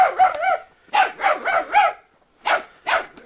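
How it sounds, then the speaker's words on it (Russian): A puppy on a farm barks in short, sharp yips, three quick bursts, a pause, a run of three more, then two final barks, close and clear with no talk. "щенок уже голос показывает, характер"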